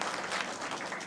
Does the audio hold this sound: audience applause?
yes